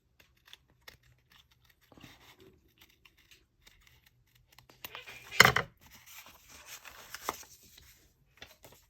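Scissors cut paper for a junk journal page: sparse, quiet snips and rustles, with one sharper, louder cut about halfway through and softer paper handling after it.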